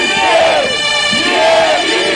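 Stadium crowd cheering and roaring after a goal at a winter football match, a loud sustained mass of voices swelling twice across the moment.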